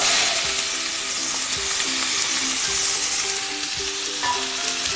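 Cumin seeds and chopped onions hiss and sizzle in hot oil, a steady loud frying that carries throughout with faint stirring clinks.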